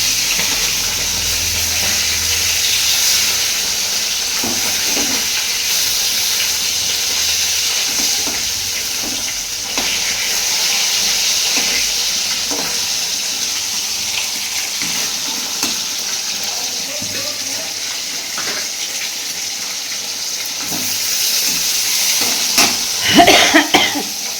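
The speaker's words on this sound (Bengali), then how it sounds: "মাছটা ভাজছি।" Fish frying in a pan in a home kitchen, a steady broad sizzle running throughout with occasional clinks and a louder clatter near the end, no talk.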